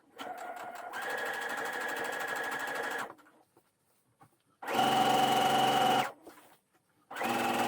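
A sewing machine understitching a T-shirt neckline in rapid, close bursts: three runs of steady mechanical whirring separated by short pauses.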